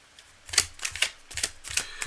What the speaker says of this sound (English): Cards are well shuffled, of course.